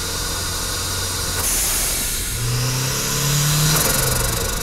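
A turbocharged Mazda Miata engine revs over a steady hissing, rushing background, its pitch climbing and falling twice, with a faint whoosh as the revs drop.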